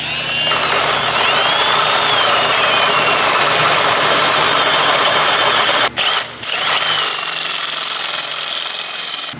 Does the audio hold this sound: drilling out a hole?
yes